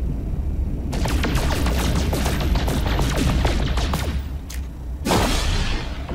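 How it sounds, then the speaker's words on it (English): Rapid gunfire from shooting at the ground in the video game No Man's Sky, a dense, loud burst of sharp shots running continuously, then a brief lull and a final louder blast near the end. "If I'm gonna be shooting at anything, let me shoot at the ground."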